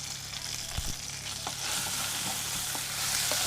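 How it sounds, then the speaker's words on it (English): Squid added to a sizzling mixture in a hot pan, frying steadily with occasional stirring clinks, close and continuous with no speech. "add the squid to the mixture"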